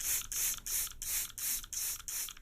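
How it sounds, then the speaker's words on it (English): A hand spray bottle misting water over seeds in a nursery, giving six regular bursts of hissing spray, each about a third of a second long, close and fairly quiet with no talk. "this is where I will use the spray bottle"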